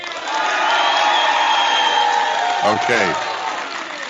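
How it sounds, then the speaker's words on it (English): A live audience claps and cheers in a steady roar for about four seconds, with a few whoops rising above it and a voice briefly speaking near the end. "live applause"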